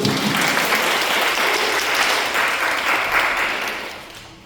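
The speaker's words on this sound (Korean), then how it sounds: "이렇게 성도들이 박수 안 쳐주면 섭섭하겠죠? 박수" A church congregation at a Sunday worship service applauds in a steady, full wash of clapping that swells in the middle and fades away toward the end.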